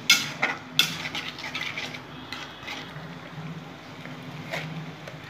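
Prawn masala gravy being stirred in a pan, with a couple of sharp utensil scrapes and clinks near the start, then a soft, steady sizzle and scraping close by.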